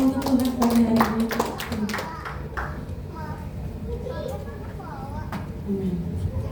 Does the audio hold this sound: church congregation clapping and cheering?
yes